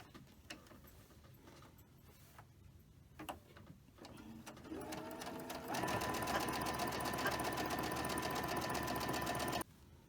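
A sewing machine stitches a quilt square of flying-geese blocks. Some soft handling clicks come first, then the motor whirs into a steady, rapid stitching run of several seconds before stopping abruptly.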